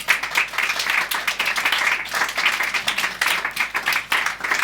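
Continuous applause from an audience at a Slovenian literary festival breakfast-with-authors event, a dense steady patter of many hands clapping at even loudness throughout, with no voices rising above it.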